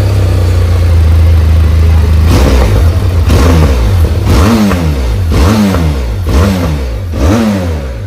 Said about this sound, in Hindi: कि एग्जॉस्ट का साउंड कैसा है, स्टॉक